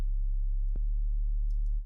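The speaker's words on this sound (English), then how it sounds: "And then I also have this cut off at 152 hertz, so it's basically a sine wave." A synth bass with its filter cut off at 152 Hz, leaving an almost pure sine tone, holds a steady low hum with a brief click partway, then fades at the end.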